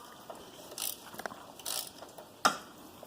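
Bolt being tightened on a two-seat vehicle under restoration, heard as a few close, separate metallic ratchet clicks and clanks at uneven intervals, with a sharper click near the end and no talking.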